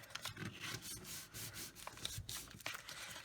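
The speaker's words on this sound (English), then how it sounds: "lay it flat and kind of pinch along the score lines and burnish" Folded scored paper burnished flat by hand along its score lines for a mini album, heard as soft, close rubbing strokes with brief scratchy swipes, no talking.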